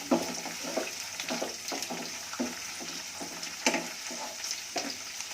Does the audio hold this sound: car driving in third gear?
no